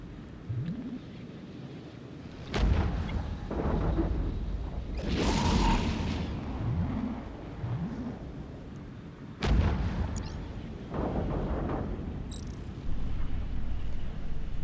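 An elite battleship blows up during a space battle in the EVE Echoes video game: a series of heavy booming blasts with rumbling tails, separated by quieter weapon-fire noise.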